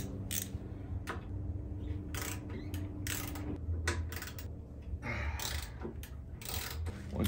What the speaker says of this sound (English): Once you break them, you can get a smaller ratchet.